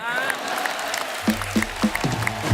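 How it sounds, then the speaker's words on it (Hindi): Studio audience applause at a Hindi comedy talk show taping, broad clapping that swells in the second half with a few louder bursts, mixed with crowd noise. "माता पिता के लिए जोरदार तालियां"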